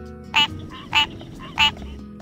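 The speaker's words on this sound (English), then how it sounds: "Tree frog." A tree frog croaks three times, evenly spaced about two-thirds of a second apart, each call short, loud and close against a quiet background.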